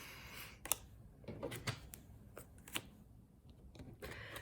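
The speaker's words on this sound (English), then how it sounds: "I keep having these like blowouts with shuffling the deck." A tarot card deck is shuffled in irregular bursts of soft riffling and sharp snaps, quiet and close with brief pauses between.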